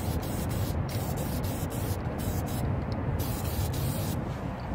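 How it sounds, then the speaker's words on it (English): An aerosol can of disc brake quiet sprays steadily onto the backing plate of a front brake pad from a 2006 Lexus RX400h hybrid, a continuous close hiss with brief pauses, with no talking. "what I do after is I use a little disc brake quiet. Now we just put it on top of the backing plate."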